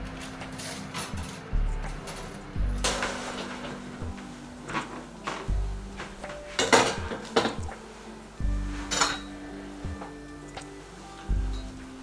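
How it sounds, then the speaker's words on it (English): A tray of golden vanilla shortbread biscuits is pulled from the oven amid a series of metallic clanks and clatters of baking tray and oven rack, spaced irregularly and moderately close. "So our biscuits are nice and golden and we're just going to take them out of the oven."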